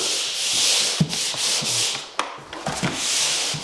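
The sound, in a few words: sanding drywall joint compound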